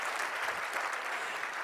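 An indoor audience gives steady, dense applause, many hands clapping together at a constant moderate level with no talk over it.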